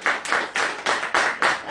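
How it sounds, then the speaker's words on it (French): A small audience at a French honey-cream product demonstration gives a brief round of clapping, about six evenly spaced, fairly soft bursts in quick succession. "On va applaudir pour..."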